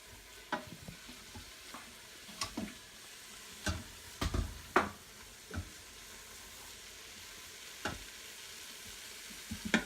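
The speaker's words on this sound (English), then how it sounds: "So just use a spoon to mix it." Vegetables being stirred with a spoon in an oil-free pan while cooking dumpling filling, giving soft irregular scrapes and clacks over a faint steady sizzle, close and fairly quiet with no voices.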